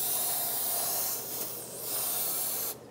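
Aerosol parts cleaner sprayed onto the back of a front brake rotor on a 2010-2023 Toyota 4Runner, a steady loud hiss running nearly three seconds before cutting off abruptly near the end, with no talking.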